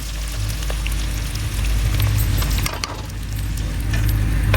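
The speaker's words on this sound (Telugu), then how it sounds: "ఇప్పుడు డైరెక్ట్ ఇందులో కారం వేసేస్తాను." Chili powder dropped into a hot pan that already holds curry leaves, giving a steady, loud, close sizzle and crackle that carries on without a break and without talk.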